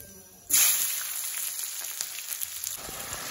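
Chopped onions hit hot oil with whole spices, cumin and chilies, bursting into a loud, sudden sizzle that holds as a steady crackling hiss, with a few scattered pops as it settles.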